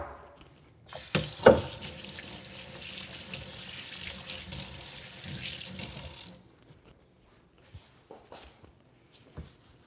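Water runs steadily from a kitchen sink faucet during chicken banh mi prep, a loud splashing rush lasting about five seconds before cutting off, followed by a few soft clinks and taps.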